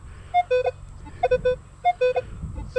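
A Minelab Legend metal detector sounds its iron ID tone: short, clear electronic beeps in small pitched clusters, repeating about three times alone over a low rumble of handling noise.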